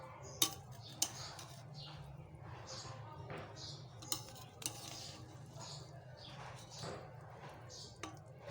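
Chicken biryani is scooped onto a dish with a spoon, giving scattered light clinks and taps of metal on the plate, quiet and spaced out, with a voice murmuring in the background.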